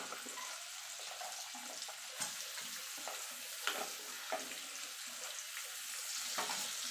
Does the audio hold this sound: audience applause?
no